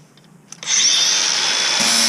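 An angle grinder starts up after a couple of faint clicks and runs loud and steady on fiberglass boat repair for over a second, then cuts off abruptly.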